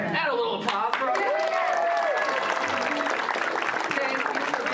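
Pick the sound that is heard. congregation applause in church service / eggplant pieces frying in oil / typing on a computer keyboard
congregation applause in church service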